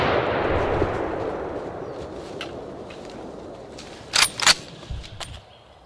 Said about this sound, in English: uses the Merkle Helix to good effect, taking the shot the second the boar stops moving